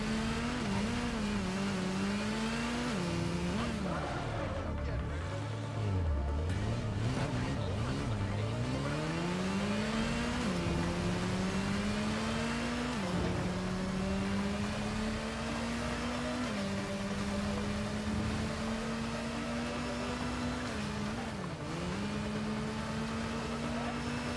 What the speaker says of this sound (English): Bike ride in here seems smooth as butter.